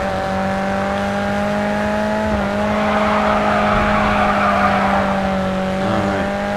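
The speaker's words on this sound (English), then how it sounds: "That was a nice drift." A car drifting in the racing game Grid 2, its engine holding a steady drone while the tires squeal through a long slide, loud and close, with no one speaking.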